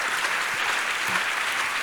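After a talk at the Paris Luxury Summit, the audience gives a sustained, even round of applause that carries at moderate loudness from start to finish.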